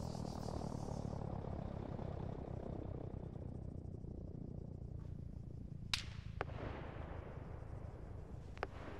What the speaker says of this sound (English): There's some shots coming in from two directions now.